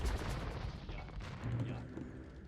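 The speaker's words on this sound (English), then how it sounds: "Right into the hand cannons for MBL" Hand cannons fire in the Age of Empires II video game as a dense, low, booming crackle of shots. It is fairly quiet and continuous across the moment.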